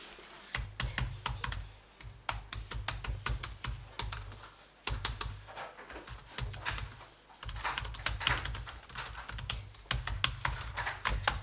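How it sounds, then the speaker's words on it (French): Fingers typing on the keyboard of an Acer Swift GO 16 OLED laptop, quick bursts of soft clicking keystrokes with brief pauses between runs, close and without talk. "On va écouter les touches juste ici si vous êtes d'accord."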